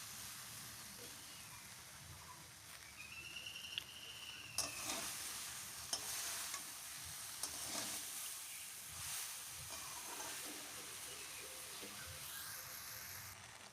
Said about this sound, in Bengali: এবার মিষ্টিটা, গুড়টা ভালো করে দিয়ে নাড়াচাড়া করতে হবে।